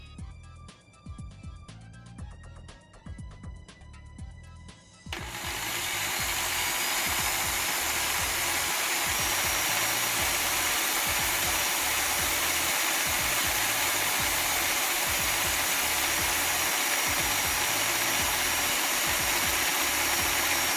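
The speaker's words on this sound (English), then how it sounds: "I used an electric drill and rubber tubing to turn the oil pump shaft." A brief rattling, clicking mechanism gives way to a loud, steady whirring electric drill turning the two-stroke oil pump shaft of a 1969 Kawasaki H1 Mach III, running continuously and close for the rest of the clip.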